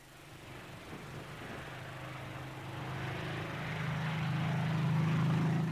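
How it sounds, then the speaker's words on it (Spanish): Propeller aircraft engines drone steadily on a runway, a low harmonic hum that swells gradually louder and nearer over several seconds, with no voices. "El sonido de los motores era maravilloso"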